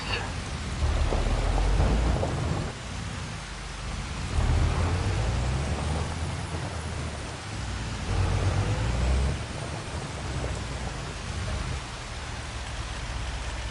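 Steady rain pours down with rolling rumbles of thunder swelling and fading in the video game Farming Simulator 25, a continuous wet hiss filling the whole stretch.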